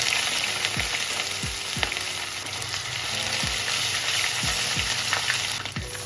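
Mustard oil with cumin seeds and ginger sizzles steadily in a pan, a loud continuous frying hiss broken by repeated scraping stirs of a spoon.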